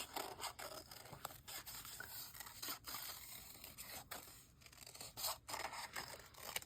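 Paper being cut by hand with scissors during collage art journaling, giving close, quiet, continuous rasping snips and scrapes with brief pauses, no talking.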